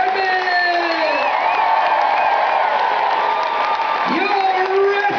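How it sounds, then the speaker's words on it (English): A cruise ship audience applauds and cheers for the Norwegian Gem housekeeping department, a dense, loud, steady wash of clapping with whoops and shouts throughout, overlaid by an announcer's amplified voice speaking above it. "keep that applause going for your fantastic housekeeping department"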